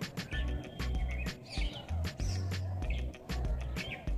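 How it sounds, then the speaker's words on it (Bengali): Small parakeets perched in palm and coconut trees give short, repeated chirping calls at a moderate distance, scattered through low background rumble and handling noise. "ওই দেখো টিয়া পাখি বসেছে নারকেল গাছের পাতায়"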